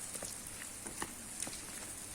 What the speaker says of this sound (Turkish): Güzel bir yağmur yağıyor